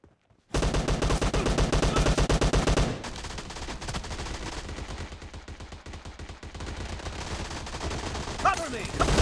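Rapid, loud shotgun blasts ring out in a PUBG Mobile team deathmatch, a dense burst of shots followed by sparser gunfire continuing under game noise.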